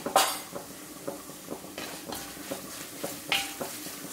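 A spoon scrapes and stirs crushed chili flakes and turmeric powder into sardines in a pan, with repeated soft clinks and scrapes at an irregular pace, close and fairly quiet, no talking.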